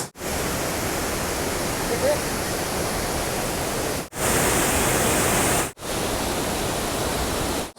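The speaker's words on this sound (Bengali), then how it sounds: "এই হচ্ছে নেতারহাটের বিখ্যাত জলপ্রপাত লোধ ফলস।" Lodh Falls, a famous waterfall at Netarhat, gives a steady, dense roar of falling water, loud and close, with brief cuts where the sound drops out.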